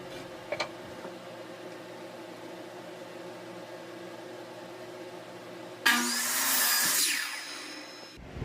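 Short wooden pieces for a simple shelf being cut to ten inches: a quiet motor hum, then a loud, close saw bite lasting about two seconds before stopping.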